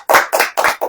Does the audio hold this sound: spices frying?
no